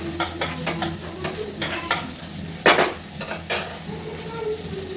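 Green chillies sizzle in hot oil with a black cumin tempering for chicken pulao, a steady close crackle broken by scraping and clinking of a spoon against the pan.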